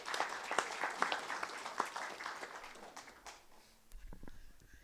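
A lecture-hall audience at a university retirement workshop claps warmly to welcome the dean of social sciences, a dense, steady patter of many hands that thins and fades, followed by a few low thumps and a voice starting to speak.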